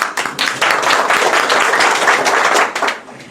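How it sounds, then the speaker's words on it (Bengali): An audience claps for the Alokito Shaktola Foundation at an Eid reunion gathering: a dense burst of hand claps that swells and holds for a few seconds, then tapers off. "আলোকিত ফাউন্ডেশনের জন্য একটা তালি হয়ে যাক"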